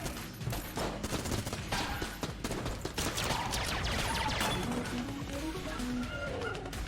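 Rapid gunfire in the top-down dungeon shooter Enter the Gungeon: a dense, continuous stream of sharp, overlapping shots fills the whole stretch, with small electronic game tones and effects mixed in.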